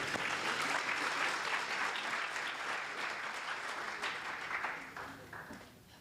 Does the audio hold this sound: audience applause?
yes